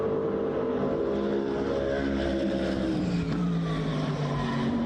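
Toyota or Lexus supercar engine pulling steadily under load, a continuous loud drone with rising and falling tones and faint tire noise, close and with no talk.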